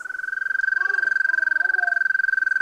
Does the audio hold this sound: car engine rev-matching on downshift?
no